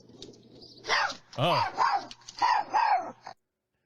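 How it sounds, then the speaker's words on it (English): A dog barking and growling in a played recording, as it attacks and chases a coyote in a backyard. Several loud, close barks come in a quick uneven series, then stop abruptly, with a brief spoken exclamation at the start. "the dog spun around and attacked the coyote"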